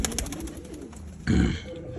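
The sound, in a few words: pigeons cooing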